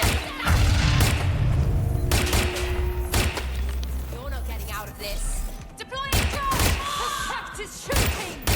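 A frag grenade going off in the video game Watch Dogs: Legion, a deep booming blast under a steady rumble, with scattered gunshots and thuds around it and game voices speaking.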